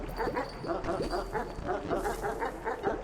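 A strange dog creature in the game Animal Well gives a steady run of short yipping barks, evenly spaced over a low background hum.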